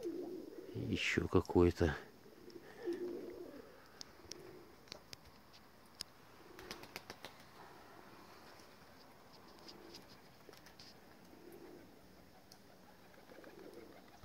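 Pigeons, including a white dove, cooing softly in a loft, low repeated coos spread across the scene with scattered clicks and rustles; someone speaks briefly near the start.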